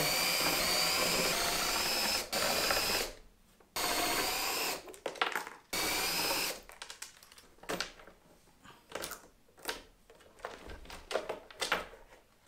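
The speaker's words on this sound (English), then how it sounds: "Drills make everything easier." Power drill used to take apart the case of a damaged electric skateboard, with repeated close bursts of whirring, driving screws in stops and starts, separated by short pauses and small handling clatter.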